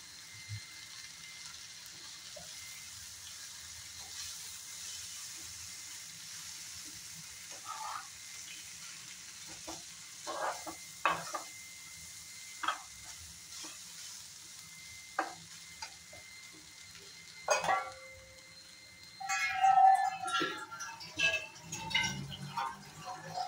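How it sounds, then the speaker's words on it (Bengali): Three packets of Maggi noodles cook in hot water in a pan, a faint low simmer broken by scattered spoon scrapes and clicks that grow busier toward the end. "এখন আমি এখানে দিয়ে দেব 3 প্যাকেট ম্যাগি"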